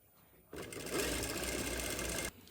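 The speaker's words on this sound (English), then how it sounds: "I'll go ahead and fold it in like this and sew it with my machine." A sewing machine stitches folded fabric for making a round autogele head wrap with a bow, a continuous close mechanical whir that starts suddenly and stops after about two seconds.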